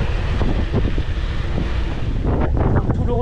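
Steady roaring headwind buffeting the microphone on a cycling ride, loud and continuous throughout, with faint bursts of voices mixed underneath.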